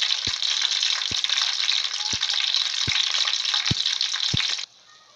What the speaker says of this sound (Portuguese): eu vou fritar os meus bolinhos